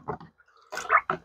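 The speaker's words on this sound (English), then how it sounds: "Rinse it off just a little bit." A pocket knife, an Ulster premium stock knife, swished and rinsed in a container of clean water, with a few short close splashy bursts and drips separated by brief quiet gaps.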